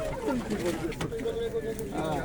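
Pigeons at a bird market in Łomża give soft cooing calls close by, mixed with background chatter and a voice talking over them.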